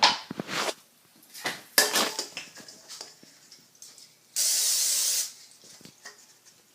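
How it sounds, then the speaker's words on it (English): A steady burst of cooking spray hisses onto a baking pan for about a second, amid light clattering and handling noises before and after. "I am going to spray my pan"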